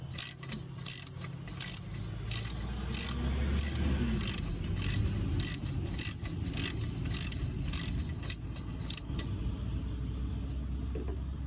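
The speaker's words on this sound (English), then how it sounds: "we'll loosen this bolt up, take it out" A wrench works a roughly 12 mm bolt loose on a John Deere 3005 tractor seat, a close series of sharp metallic ratchet clicks in repeated bursts over a low rumbling background.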